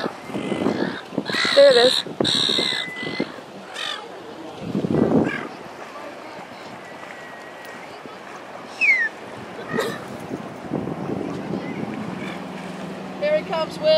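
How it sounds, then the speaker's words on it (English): Crows cawing repeatedly in Queensland over a boat out on open water, harsh calls coming in scattered bursts, some close and loud, with wind, engine noise and people talking throughout. "Everybody keep your eyes on the bird."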